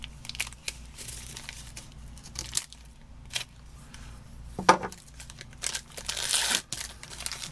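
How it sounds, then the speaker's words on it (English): A knife slits and tears open the plastic wrapping of a 1999 Star Foods individual meal pak, heard close and fairly quiet as scattered crinkling, crunching and ripping bursts with short pauses between them. "Let's actually get the knife here and cut this guy open"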